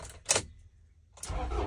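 A box truck engine starts: a sharp click of the key, a short pause, then the engine cranks and catches into a low, steady idle, heard close by with no talk.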